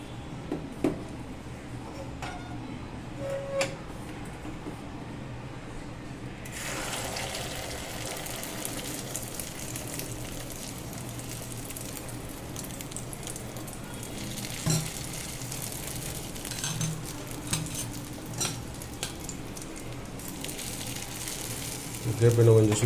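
Beaten egg poured into hot oil in a small ladle for a karandi omelette gives a soft, continuous sizzle. The sizzle swells after a few seconds and stays steady, with small clinks near the end.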